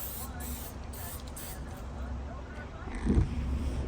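A steady hissing spray from an aerosol can of lubricant onto competition airgun pellets runs throughout, with a short louder burst near the end.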